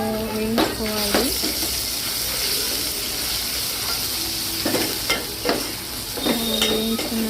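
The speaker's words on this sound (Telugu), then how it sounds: "అల్లం వెల్లుల్లి పేస్ట్, పసుపు వేసుకొని, సో పచ్చిగా ఉంటుంది కదా అల్లం వెల్లుల్లి పేస్ట్ అనేది, సో వేయించుకోవాలి." Curry leaves, ginger garlic paste and turmeric fry in a pan with a steady close sizzle, broken by several scraping stirs that ring out in short bursts of tone.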